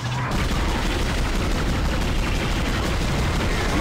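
Dense, sustained gunfire from the Dead Space video game, a continuous roar of shots and impacts running loud and unbroken for several seconds with no talk over it.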